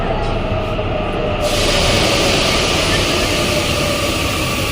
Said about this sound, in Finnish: Ilmeisesti meidän metro.